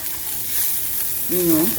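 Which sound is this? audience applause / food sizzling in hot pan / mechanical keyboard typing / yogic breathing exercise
food sizzling in hot pan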